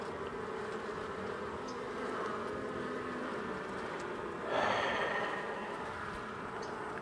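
Honeybees buzz steadily around an opened hive during a warm-day winter hive check, a dense continuous drone close to the microphone, swelling briefly louder partway through.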